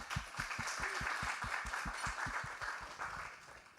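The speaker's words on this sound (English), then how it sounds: "Let's give them one more round of applause." Audience applause at an international student program recognition ceremony, a steady patter of many hands clapping with a few distinct nearby claps, moderately distant and continuous.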